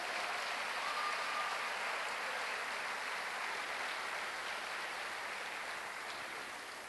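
A church congregation applauds in a dense, steady wash of clapping that holds evenly for several seconds and then begins to fade slightly toward the end.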